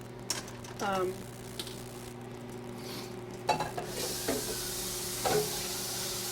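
Stuck cheese is scraped from a pan in a few short, quiet scrapes spread apart, over a steady low background hum.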